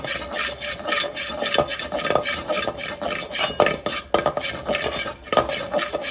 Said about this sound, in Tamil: இப்போ நம்ம பொட்டுக்கடலை உடச்ச கடலை பொட்டுக்கடலை வறுத்தாச்சு